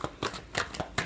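Tarot cards flick through a brief, quiet shuffle, with a few soft rapid riffles close by.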